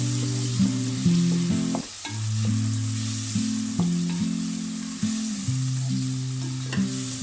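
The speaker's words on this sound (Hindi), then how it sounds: "अब इसमें 3 दरमियाने साइज़ के टमाटर और 2 हरी मिर्चें शामिल करेंगे और इसको दरमियानी आंच पर अच्छे तरीके से भून लेंगे और चम्मच मुसलसल हिलाते रहें" Three medium tomatoes and two green chillies fry over medium heat while a spoon keeps stirring, so a loud steady sizzle runs under repeated scraping and clinking strokes, close up and with no voices.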